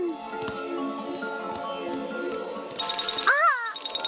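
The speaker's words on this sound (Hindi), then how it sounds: "तुम्हारे फोन की घंटी बज रही है।" A bright electronic phone ringtone bursts in partway through a Doraemon cartoon, loud warbling tones over a busy background of music and sound effects.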